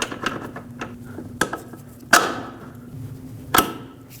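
A rear strut mount is pried into place on a 2006-2015 Lexus IS250 during a strut replacement. Several sharp metallic clanks and knocks ring out at uneven intervals, close and fairly loud, with no talking.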